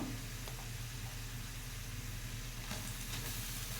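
Grated carrot fries in a pan with a soft, steady sizzle, quiet and continuous with no talking over it.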